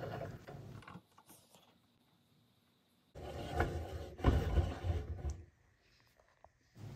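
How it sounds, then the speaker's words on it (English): A crank handle turns on a WEN 4214T drill press, raising and lowering the table in two bursts of close, quiet gear ratcheting and grinding, separated by near silence. "Install the crank handle to raise and lower the table."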